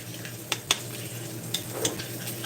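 Pinto beans being stirred in a pan for crispy tacos, with a soft sizzle underneath and a few sharp utensil taps and scrapes against the pan.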